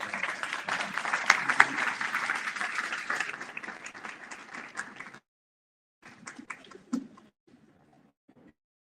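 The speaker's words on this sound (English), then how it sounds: "Please join me in giving a round of applause." Audience at a public people's hearing in Southaven, Mississippi breaks into a burst of applause that fades out after about five seconds, followed by a few scattered claps and murmurs.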